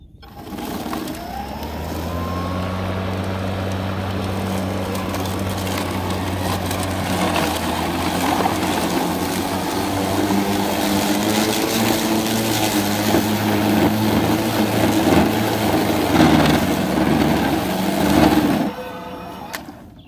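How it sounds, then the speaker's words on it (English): A Greenworks Pro 80-volt dual blade lawn mower, its drive speed set to the middle, spins up with a rising electric whine, runs with a loud, steady hum and blade whir for about eighteen seconds, then abruptly winds down. "80 volt Greenworks can do. Here, I'm going to stick the drive speed right in the middle. Turn it on."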